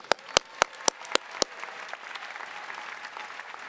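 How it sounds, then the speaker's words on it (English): Audience applauding a graduate at a university commencement ceremony, several sharp close claps at the start giving way to a broad, steady wash of crowd applause. "lots of time to give her a round of applause"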